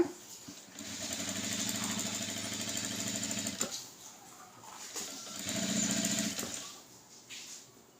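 A sewing machine stitches a blouse in two steady mechanical whirring runs, the first lasting about three seconds and the second shorter, with brief quiet pauses between them. No one speaks.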